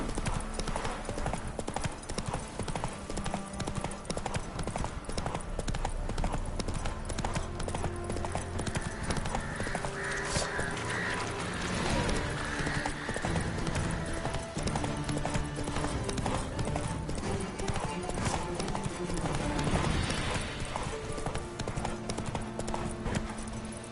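Horse hooves clip-clop in a steady galloping rhythm as a rider travels in The Witcher 3, dense and continuous over game music and ambient sound, with a brief voice in the mix.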